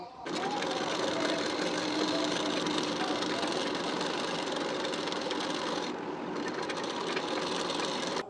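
A sewing machine runs steadily, stitching nylon fabric onto a blouse front part with a half-inch gap. The whirring is loud and continuous, with a brief dip near the end before it picks up again.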